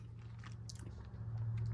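A crunchy, salty-sweet fishy snack from a Japanese military ration is bitten and chewed up close, quick crisp crunches over a low steady hum.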